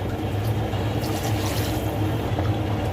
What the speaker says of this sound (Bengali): আমি 4 পোয়া চালের জন্য 8 পোয়া পানি দেবো কাপ মেপে।